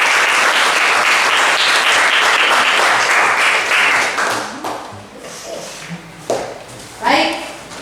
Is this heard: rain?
no